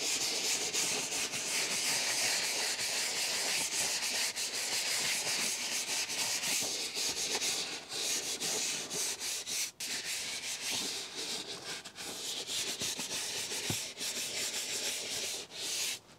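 A brush scrubs cleaner into a white Tesla seat in circular motions, producing a continuous close, loud hissing rub with rhythmic scratchy strokes throughout, with no speech.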